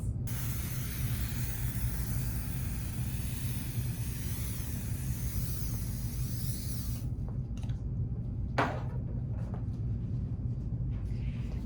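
A continuous aerosol spray of adhesive onto quilt batting hisses steadily for several seconds, then stops, followed by a couple of brief rustles against a low rumbling background.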